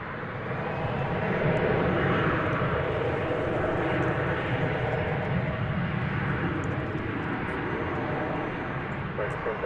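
Airplane at DFW Airport, a steady distant engine roar that swells and slowly fades across the airfield, with a voice talking over it.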